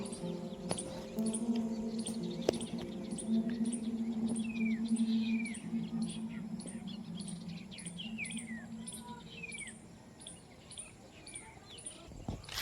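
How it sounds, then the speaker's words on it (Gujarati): Various birds call on a quiet home rooftop terrace: faint, scattered chirps and rising whistles drift in from a distance over a low steady hum, with soft background murmurs. "અલગ અલગ પક્ષી બધા બોલે છે અને અવાજ મસ્ત આવે છે"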